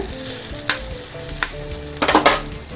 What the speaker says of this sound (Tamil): நல்லா ப்ரௌனிஷாக ஆகிற வரைக்கும் ஃப்ரை பண்ணிக்கோங்க